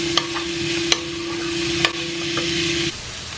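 Vegetables cooking in a pan, bell pepper and leek with a steady sizzle and a few sharp clacks of a utensil stirring against the pan, close and clear with no talking.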